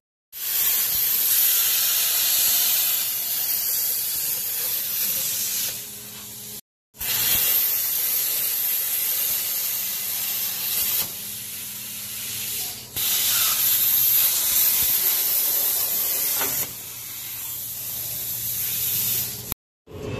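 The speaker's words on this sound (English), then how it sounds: "He's cutting the coils with the plasma." A plasma cutter slicing through vehicle coil springs during a front air bag install, a loud steady hissing roar in several long bursts separated by brief silent pauses.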